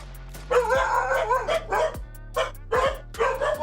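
A dog barks repeatedly, fairly close, in uneven bursts of sharp barks and yips with a few whimpery notes over a low steady hum.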